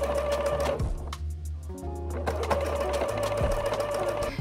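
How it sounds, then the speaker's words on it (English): A sewing machine runs steadily up close, stitching a neckline band that is stretched to fit, its whirring motor pausing briefly midway before starting again. "Sew stretching the band to fit."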